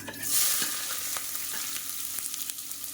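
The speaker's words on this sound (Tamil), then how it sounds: "இப்போ வெங்காயம் வதக்கட்டும்" Onions sauté in a pan with a loud steady sizzle, a burst of hissing as they go in, and scattered spoon scrapes and taps while frying continues.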